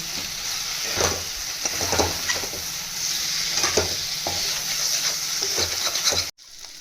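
Fried pointed gourd is stirred into spicy mustard-poppy masala in a pan, giving a steady close sizzle broken by repeated scraping stir strokes, ending abruptly with no speech.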